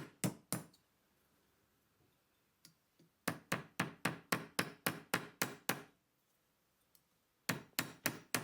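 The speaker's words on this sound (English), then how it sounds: "Hammering the metal flatter means that the groove down the centre of the leaf will be more noticeable" Sharp metallic hammer blows on copper ring out close by, flattening a leaf pendant, a few at first, then a rapid steady run of a dozen strikes, pausing before more.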